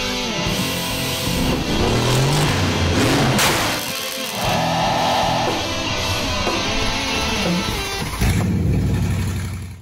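A road-legal go-kart engine revs loud and close, its buzzy pitch rising and falling through repeated blips over about ten seconds.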